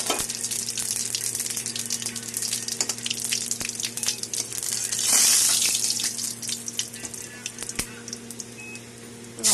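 Whole cumin, a bay leaf and a dried red chili crackle and sizzle steadily in hot oil for a Bengali vegetarian taro and potato curry, a close, continuous frying hiss with scattered pops.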